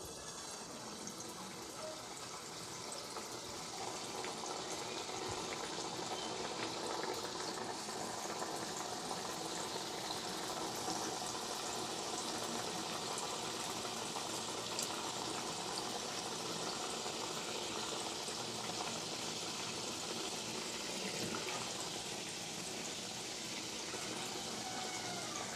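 Langcha, ghee-rolled chhana dough sweets, sizzle in a pan of hot oil, giving a steady, even bubbling hiss that runs unbroken throughout and stays close and fairly loud.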